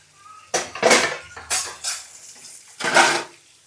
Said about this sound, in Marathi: तोपर्यंत भांडी घासून घेते